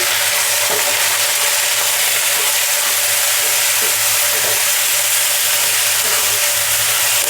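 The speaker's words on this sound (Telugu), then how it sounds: "తగినంత సాల్ట్ చిటికెడు పసుపు ఒకసారి కలుపుతున్నాము" Curry cooking in a pan after salt and turmeric are stirred in, heard as a loud, continuous sizzling hiss that stays close and even throughout, with faint occasional stirring beneath it and no talking.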